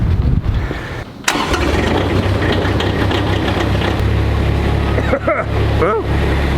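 A diesel engine turns over and catches on a snowy morning, then settles into a loud, steady, rumbling idle close by, with a few brief squeaky tones near the end.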